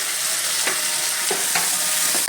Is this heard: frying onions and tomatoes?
yes